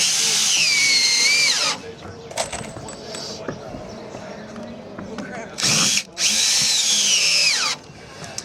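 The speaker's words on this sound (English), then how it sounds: "as we begin to put the screws around on the decking, we will space them 1 foot apart." Power drill driving screws into 2x4 framing and decking of a homemade raft, two loud bursts of whirring separated by a quieter stretch of handling noise.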